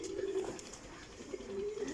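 Breeder pigeons coo in low, throaty, rolling calls, two drawn-out coos close by over a quiet background.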